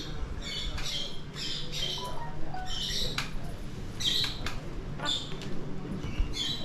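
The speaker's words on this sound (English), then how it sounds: "And a little budgie to welcome us." A small pet budgie squawks and chirps in short repeated bursts over a steady outdoor hum, fairly close, at a rural holiday spot beside a fire and a well on Zakynthos.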